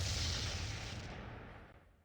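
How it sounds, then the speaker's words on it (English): An explosion spell in the KonoSuba: Fantastic Days game booms in the distance, a loud rumbling blast that slowly fades over about two seconds. "Mega Man just firing off an explosion in the distance"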